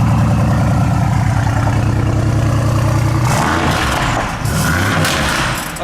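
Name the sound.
V8 car engine exhaust idling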